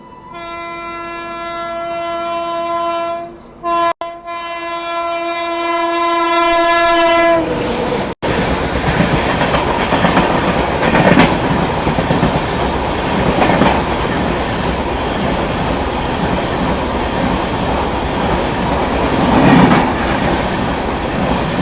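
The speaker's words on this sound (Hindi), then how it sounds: "एक ट्रेन की क्रॉसिंग है जो दादर से बीकानेर के लिए रणकपुर एक्सप्रेस आ रही है" The Ranakpur Express, running between Dadar and Bikaner, sounds a long, loud horn as it crosses another train at a small station. A steady rumble and clickety-clack of passing wagons follows, close and sustained.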